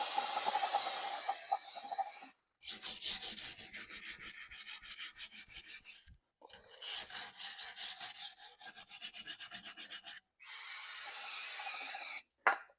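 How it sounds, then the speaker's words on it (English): A wire brush scrubs a brake hub on a Jetta TDI during cleaning with brake cleaner, giving loud close rasping strokes in three long bursts separated by short pauses, with no talking. "I'm gonna take some brake clean, I'm gonna clean this up, scrub it with a wire brush"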